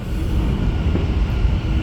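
Steady low rumble of an Istanbul metro train running on rails, a continuous loud roar with no talking.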